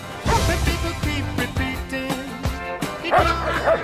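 A dog barks and yips in a quick run of short calls, fairly close and loud, with a rhythmic musical backing underneath throughout.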